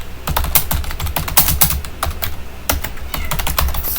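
Quick, uneven clacking of keys on a computer keyboard as C code is typed, with close, crisp keystrokes in bursts and short pauses.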